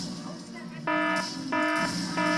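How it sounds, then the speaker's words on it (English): An alarm goes off in a video game. A harsh electronic buzzer blares in repeated bursts with a loud, steady drone between them, and a voice can be heard underneath. "I've had enough of your alarms! I'm shutting your alarms down!"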